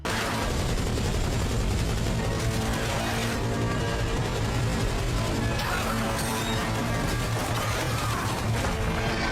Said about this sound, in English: The gunshots echoed across the canyon as the creatures continued their relentless climb